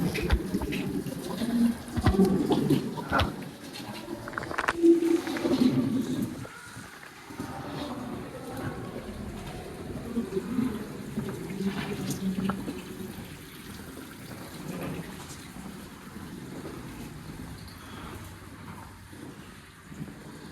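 Natural water trickles and flows continuously at a distance inside a gold mine in Johannesburg, South Africa, with a low rumbling echo and no talking.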